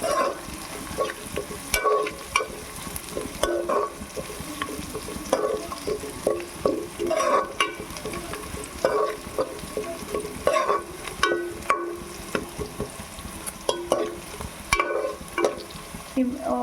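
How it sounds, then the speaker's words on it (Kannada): Onions fry on medium heat in a pan for moong bean sambar while being stirred, giving a steady, close sizzle broken by frequent scraping and stirring strokes that continue throughout. "ಒಂದು ಮಿನಿಟ್ ಅಷ್ಟರಲ್ಲಿ ಆನಿಯನ್ ಬೇಯುತ್ತೆ."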